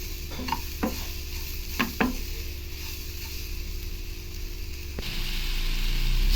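Sugar is stirred in a pan until it melts, with a steady low sizzle underneath and a few scraping strokes of the spoon against the metal, close and continuous.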